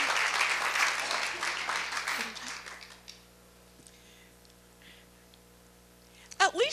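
An audience claps loudly and steadily for the International Harvesters, then the applause tapers off into near quiet with a few faint scattered noises, and a brief burst of voices breaks in at the end.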